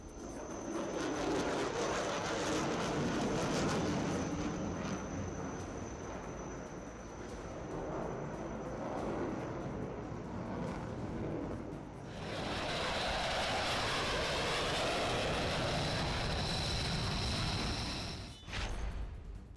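Aircraft performing aerobatic passes at the Aero India air show, a loud, sustained jet roar across open air that swells and fades as the planes sweep by, with a sharper whoosh near the end.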